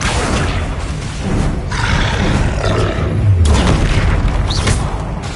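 A roaring burst of flame from the Incendio fire spell in a Hogwarts video game, a loud, dense whoosh that swells and rumbles for several seconds with heavy low booms and no talking.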